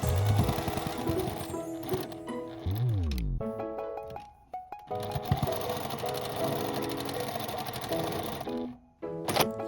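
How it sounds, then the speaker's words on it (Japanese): A sewing machine runs along the edges of folded patchwork fabric scraps for a pouch, its rapid mechanical stitching whirring in several close, steady bursts with brief pauses between runs. "3辺の端の方をミシンで縫います。"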